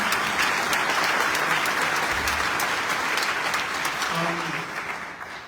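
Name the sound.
audience applause at a tribute event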